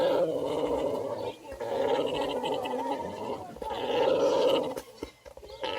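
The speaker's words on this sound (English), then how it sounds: "Are you growling at them?" Close, throaty growling from a dog facing baby rats on a farm, rising and falling in long rough bursts with brief pauses between them.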